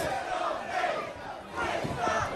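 A large indoor wrestling-event crowd roars and chants in loud, rising waves, the noise swelling twice and filling the space continuously.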